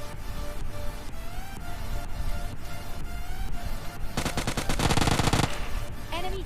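Gunfire in the mobile shooter PUBG Mobile Lite, with scattered single shots followed by a dense rapid burst of automatic fire lasting over a second, loud and close.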